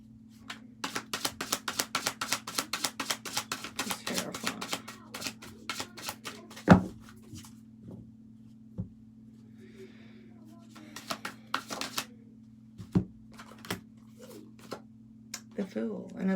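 Tarot cards are shuffled in a quick series of soft riffling flicks and taps, followed by sparser card slaps and handling, all fairly quiet against a low steady hum.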